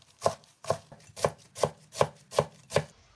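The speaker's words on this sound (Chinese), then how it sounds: "再切成细丝。" A knife chops Chinese cabbage hearts into thin shreds on a board, eight crisp even strokes in a steady rhythm, close and clear with no talking.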